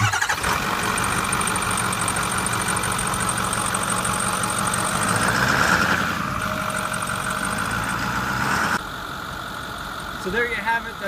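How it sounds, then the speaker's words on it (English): A 2010 Ford F-250 with a 6.4 liter V8 diesel starts and settles into a steady idle, a loud continuous engine rumble running close up for the whole span, with brief voices over it. "I'm gonna start it up so you can hear it run."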